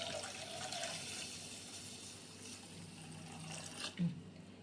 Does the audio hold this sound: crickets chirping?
no